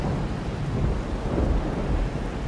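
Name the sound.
thunderstorm with pouring rain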